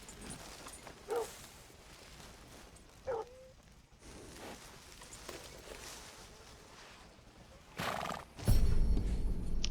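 A horse in Red Dead Redemption 2 gives two short whinnies over quiet ambience, then snorts and stamps loudly near the end.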